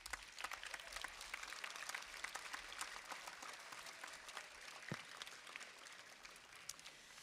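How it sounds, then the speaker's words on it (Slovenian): Sustained audience applause at a choir festival in Maribor, a dense, steady patter of many hands clapping throughout, moderately distant and even in level. "en aplavz za njih."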